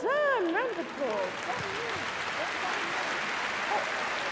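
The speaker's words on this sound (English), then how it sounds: "Round of applause." Audience applause at the Crufts hearing dogs display, a moderate, even clapping that follows a speaker's voice at the start and continues steadily to the end.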